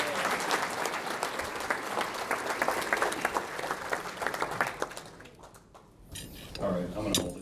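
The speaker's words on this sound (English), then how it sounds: "Another round of applause for Daryl" At a holiday breakfast, an audience gives a full round of applause mixed with faint clinks of dishes and cutlery. The clapping fades out after about five seconds, and then a voice and room sounds follow.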